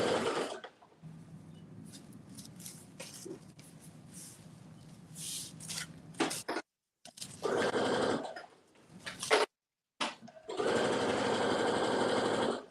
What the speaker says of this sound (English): so I'm just stitching the shoulder seams now.